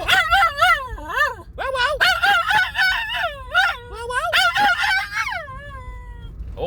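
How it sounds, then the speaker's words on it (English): An excited dog yelps, whines and howls about heading to the beach, a rapid run of high, rising and falling cries close to the listener over a low rumble like a moving car. "he sound you are now hearing is of Finnegan, the dog, expressing his vocal joy at the fact that we are going to the beach"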